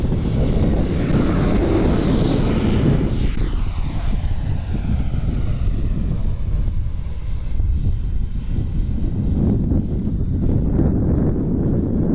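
FMS 80mm F-86 RC jet taking off, its ducted-fan whine loud and steady throughout, rising in pitch early on, with heavy wind buffeting on the microphone.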